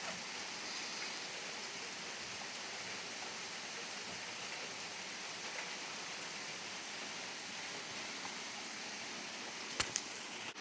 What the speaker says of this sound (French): Une petite pluie fine comme ça serait pas mal ça.